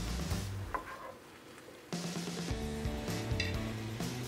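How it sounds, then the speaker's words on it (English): Turkey browning in a hot pan is stirred, a steady sizzle broken by a few scraping, clinking strokes of a utensil against the pan, close up with no voices. "I'm gonna give it a stir."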